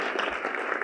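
Applause from the audience at the AAAS Kavli Science Journalism Award ceremony, a short even patter of many hands clapping at moderate loudness.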